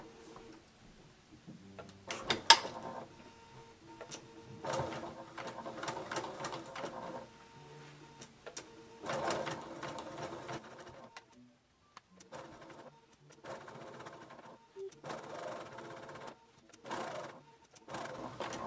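A sewing machine set to a 3.0 mm stitch length runs around the seam of a fabric sun hat in repeated close bursts separated by short pauses, with no talking.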